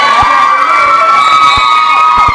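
A loud indoor crowd cheers, whoops and shouts without pause at a girls' state volleyball tournament winners-bracket final in a gym, with sharp thuds and bangs cutting through the steady roar.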